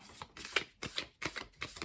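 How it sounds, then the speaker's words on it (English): Tarot cards being shuffled by hand, four quick riffling bursts in an even rhythm with short pauses between, close and crisp, with no voice over them. "I just start shuffling here because"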